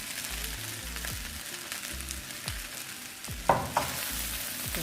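Onion frying in a pan for Jamaican-style Chinese shrimp egg fried rice, a steady sizzle with stirring scrapes and a couple of sharper clanks near the end, no talking.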